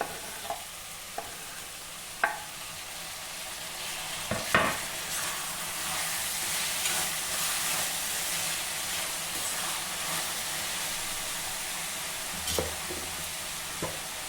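Rajma masala base with chopped tomatoes sizzles steadily in a pan, broad hissing frying noise with a few sharp clinks and scrapes of a spoon stirring, close and continuous with no talk.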